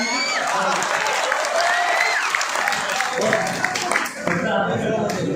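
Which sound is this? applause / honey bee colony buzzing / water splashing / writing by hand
applause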